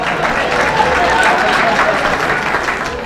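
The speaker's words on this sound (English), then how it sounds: "Don't applaud, that slows me up." An audience at a live 1980s stand-up comedy show applauds steadily, a dense, even wash of clapping and crowd noise that holds for a few seconds.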